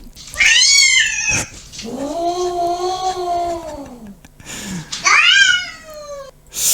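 A cat meows loudly three times, long drawn-out wailing cries with short pauses between, close by.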